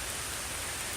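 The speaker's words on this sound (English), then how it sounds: "it's raining and I'm out in the woods" Rain falling steadily in woodland, a dense even hiss of drops on leaves and ground, constant and moderately soft with no voices.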